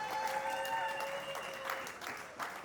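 Wedding reception guests clapping together, a steady, dense applause that holds at moderate volume throughout with a faint tonal hum in the background.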